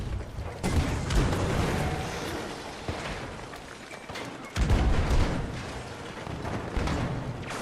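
In the Battlefield 2042 shooter, a grenade explosion lands as a deep, heavy boom, with an earlier thump amid a rumbling background of distant combat noise.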